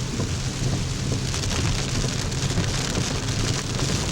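Heavy rain drums steadily on a car driving up a steep road in Utuado, a dense, constant hiss and patter with low rumble underneath and no voices.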